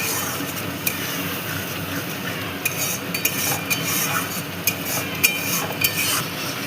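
A spoon stirs a fish curry spice mixture with sugar and kasuri methi in a pan for rui macher kalia, scraping and clinking in an uneven rhythm over a soft sizzle.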